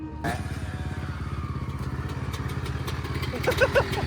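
A dirt bike engine starts up and runs for the first time, its close, steady idle putting out a fast, rhythmic putter, with a brief sharp rev and clatter near the end.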